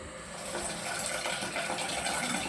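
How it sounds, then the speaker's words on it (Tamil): Fish being washed in water with salt and turmeric, a steady close rush and splash of running water with no talking. "ஒரு ஸ்பூன் சால்ட் போடுங்க, அதோட கொஞ்சம் மஞ்சள் தூள் போட்டு வாஷ் பண்ணுங்க."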